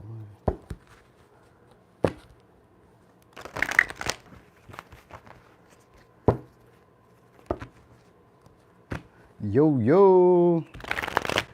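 A deck of cards is handled with scattered sharp taps and flicks, then a quick rippling riffle shuffle and a final brisk burst of card noise, with a voice briefly heard early on.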